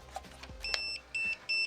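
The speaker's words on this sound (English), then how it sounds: "as you can hear it beeping, it's because it's self-leveling." Electronic beeping from a self-leveling laser level: a sharp chirp followed by three steady, sustained high beeps with short gaps, fairly close over faint background hum.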